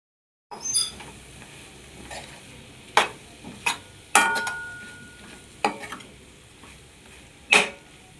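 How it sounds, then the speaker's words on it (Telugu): Fried paneer pieces are stirred into a masala seasoned with salt, chili powder and turmeric, with irregular sharp spoon-on-pan clanks and scrapes over a soft sizzle. "ఫ్రై అయిన తర్వాత ఫ్రై చేసి పెట్టుకున్న పన్నీర్ ముక్కలు యాడ్ చేయాలి."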